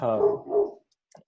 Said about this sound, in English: I don't know if you hear my dog barking